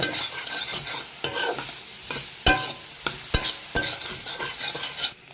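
Salted vegetables stir-fried in a pan for noodles, with a utensil scraping and clinking against the metal in repeated strokes over a steady close sizzle.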